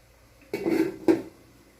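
A lid set down onto a cooking pot of sotanghon guisado with Baguio beans and sayote, two clanking metal contacts about half a second apart, close and moderately loud with no talk.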